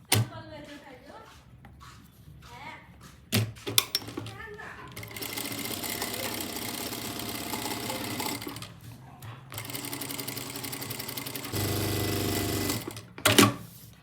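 A sewing machine stitches the neckline of an embroidered suit in close, loud rapid bursts, running for several seconds at a time between short pauses and small handling clicks.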